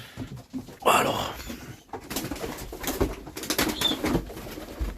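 Young takla pigeons in France whistle and coo close by, mixed with wing flaps and rustling as the birds move, and someone talks at points.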